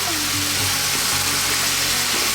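Roughly chopped raw tomatoes hit a pan of sizzling keema matar, a loud steady frying hiss with low scraping tones underneath, close and continuous.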